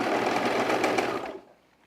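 A sewing machine runs steadily at speed while stitching men's underwear, a dense continuous mechanical whir close by that stops abruptly after about a second and a half.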